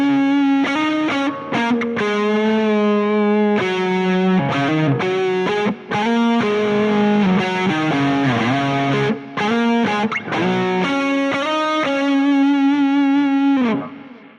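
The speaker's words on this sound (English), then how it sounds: "I'll show you how some leads sound now on this amp." Electric guitar leads through a Bogner Shiva amp sim on an Axe-FX III. Smooth, sustained, singing lines with bends and vibrato play continuously and loud, with brief breaks between phrases and no talking.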